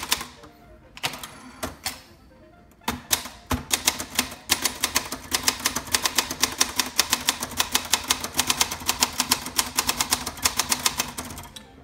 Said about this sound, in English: I love on the little Olympias the clicking sound on these, nice and crisp.